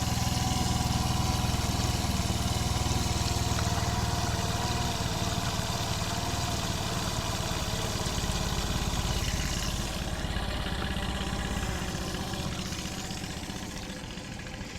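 A steady outboard boat engine idles close by for the whole stretch, a continuous low rumble with a faint knocking pulse, easing slightly softer toward the end.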